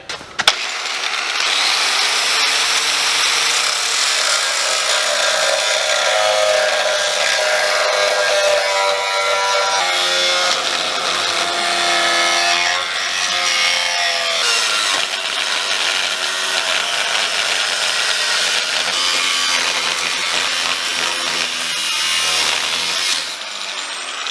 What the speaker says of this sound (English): I'm going to just take a grinder. We'll cut this out quick